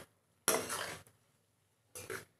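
Two short bursts of scraping and stirring as chopped tomatoes are mixed in a cooking pan, close and moderately loud, separated by a near-silent gap.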